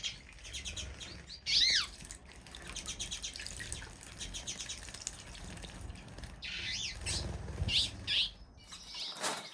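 Twite finches, small 15-gram birds bathing in cold weather, give bright chirps and calls in short bursts, with quick whirring flaps of wings close by and a faint watery backdrop.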